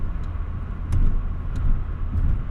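A 1990 Nissan Pulsar GTI-R engine drones steadily at close range while the driver shifts into fifth gear, with a few brief knocks and a small surge in level as the gear engages.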